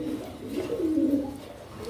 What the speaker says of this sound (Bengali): এখানে আছে একজোড়া ঝর্ণা শাটিন, অনেক সুন্দর কবুতর